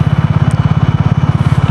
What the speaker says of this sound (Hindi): फिफ्थ गियर में बाइक अब चल रही है बिना थ्रोटल के 28।